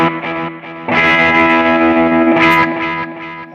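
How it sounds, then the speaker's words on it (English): Distorted electric guitar chords from a BOSS eBand JS-10 ring out loudly, with a pulsing, wavering volume from a tremolo effect as the notes sustain. "We do have a tremolo. Listen."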